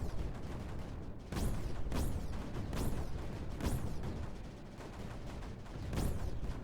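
Mortars and cannons firing in the Creeper World 4 strategy game, a series of about six sharp launch bursts with rising whistles spaced roughly a second apart over a steady rumbling bed.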